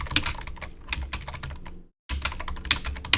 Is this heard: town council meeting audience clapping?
no